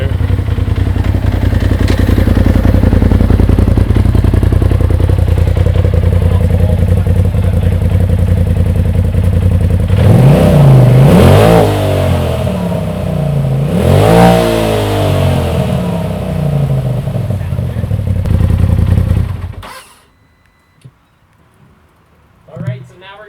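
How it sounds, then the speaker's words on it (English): A 2017 Polaris RZR XP Turbo side-by-side fitted with an MBRP Powertech 4 exhaust idles loudly and close, revs sharply twice, then shuts off, leaving near silence. "we're going to do an audio clip of a 2017 Polaris RZR XP Turbo with an MBRP Powertech 4 exhaust system on it"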